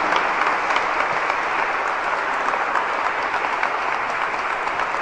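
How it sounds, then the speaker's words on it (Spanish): A church congregation applauds steadily, a dense, even roar of clapping hands from a sizable crowd that holds at constant loudness from start to finish. "Fuerte ese aplauso para el Señor"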